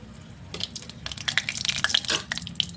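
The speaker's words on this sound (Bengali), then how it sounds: "তেলটা গরম হয়ে গেছে, একটু শুকনো লঙ্কা 2 টুকরো করে দিব ফ্লেভারের জন্যে" Dried red chillies hit hot oil and set off a sudden burst of crackling, spitting sizzle that rises in busy pops for a couple of seconds, close and fairly loud.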